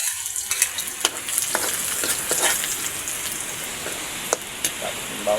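Garlic sizzling in oil in a pan as a sweet and sour sauce for pork belly gets started, a steady close frying hiss dotted with small pops and crackles.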